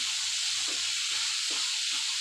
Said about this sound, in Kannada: ಹಾಕ್ಕೊಂಡು ಒಂದು ಸಾರಿ ಚೆನ್ನಾಗಿ ನಾವು ಫ್ರೈ ಮಾಡ್ಕೊಳ್ಳೋಣ